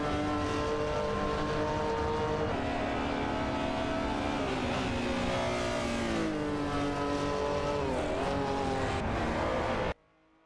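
Race cars on a track in a racing video game, engines droning and shifting pitch continuously and loudly for about ten seconds before cutting out abruptly.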